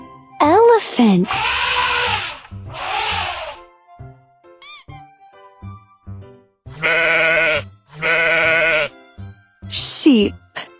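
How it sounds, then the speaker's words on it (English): Several sheep bleats in separate bursts, loud and close, spaced with short gaps across the stretch, along with some brief squeaky high calls. "Sheep."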